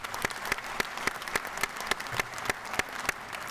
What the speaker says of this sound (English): I'd like you to all give them a round of applause.